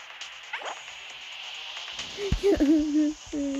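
A dog gives a few short yips and barks near the end, fairly close and moderately loud over a steady background hiss, after a quieter stretch.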